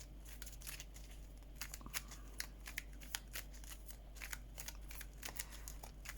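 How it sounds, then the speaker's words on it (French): Cards for the Arkham Horror card game being shuffled by hand, a quiet series of crisp riffling and snapping bursts in irregular rhythm, close but soft over a low steady hum, with no talk. "Allez, on reprend tout ça, on remélange."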